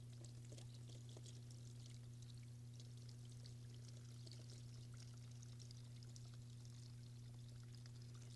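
Liquid pours steadily into a vessel in one continuous, unbroken stream, with a low electrical hum running underneath throughout.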